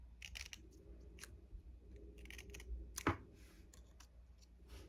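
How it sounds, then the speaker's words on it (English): Scissors cutting paper shapes for an owl craft, a series of quiet crisp snips and clicks in an irregular rhythm with no talking. "So cut out, and then cut across the bottom."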